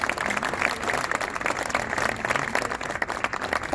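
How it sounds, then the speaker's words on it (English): Audience applause at a Cardinals Care charity grant presentation ceremony, with a moderate crowd clapping in a fluctuating, slightly uneven rhythm that continues throughout, no voices over it. "Give yourselves a round of applause."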